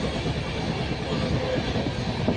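A train running on rails, a steady close rumble of wheels and carriages rolling continuously with a faint clatter throughout.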